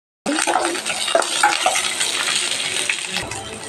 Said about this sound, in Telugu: తర్వాత కొంచెం పచ్చిమిర్చి, 5-6 పచ్చిమిర్చి వేసాను. ఇవి కూడా వేగనివ్వాలి.